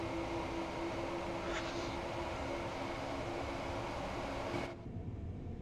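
A Class 387 electric train runs in the game Train Sim World 2, producing a steady loud rumbling drone with a sustained low hum that drops away sharply near the end.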